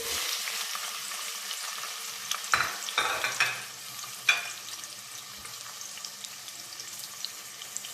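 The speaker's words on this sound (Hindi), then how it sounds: "यहाँ पे मैंने ऑयल को पतीले में डाल दिया है, ये गर्म हो चुका है। यहाँ मैं ऐड कर दूँगी प्याज।" Onions go into hot oil in a cooking pot, giving a close sizzle that flares with a few sharp bursts and stirring clatter early on, then settles into a quieter, steady frying hiss.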